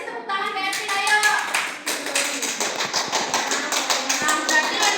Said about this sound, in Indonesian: Kasih tepuk tangan ke Evin, ayo.